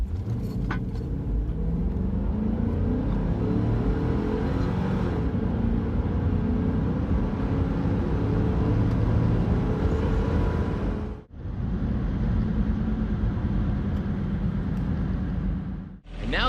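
A Hummer H3 revs and pulls hard through a quarter-mile run, with loud steady engine rumble inside the cabin that cuts briefly and resumes as gears shift.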